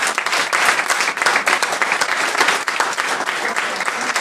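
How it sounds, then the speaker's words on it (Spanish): A church congregation claps loudly and continuously, a dense, close wash of many hands applauding together throughout. "Denle un aplauso al Señor."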